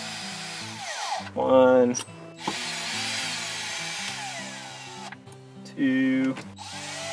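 Power screwdriver whirring in short bursts as screws come out of the dash of a 1997-1999 Subaru Outback during stereo removal, close and loud, with someone talking and counting between the runs.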